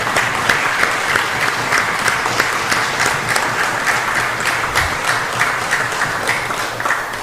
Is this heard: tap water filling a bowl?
no